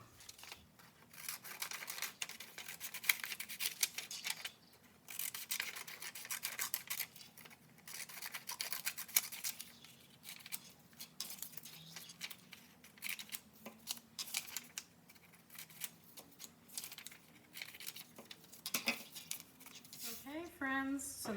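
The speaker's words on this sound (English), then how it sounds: "go ahead and cut these out. Follow the creases with your scissors." Scissors snip steadily through paper cards along their creases, a busy run of close crisp cuts and rustling paper, with a voice speaking now and then over the cutting.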